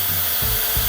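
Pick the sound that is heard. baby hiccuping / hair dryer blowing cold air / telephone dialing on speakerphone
hair dryer blowing cold air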